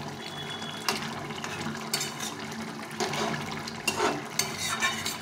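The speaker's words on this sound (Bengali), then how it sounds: "তো এই তরকারিটা ভালো করে ফুটিয়ে নিয়ে নামিয়ে দিতে হবে।" Bottle gourd and fish curry bubbling in a pot, a soft continuous simmering hiss with faint bubbling pops and occasional louder sputters throughout, close and steady with no talk.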